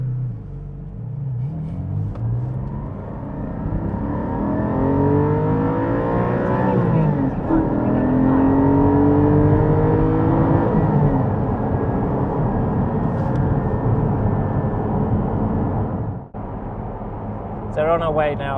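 A Porsche 718 GT4 sports car drives along a road, its engine a steady droning rumble that rises and falls through gear changes. The engine noise stays loud and close throughout, with a brief dip near the end.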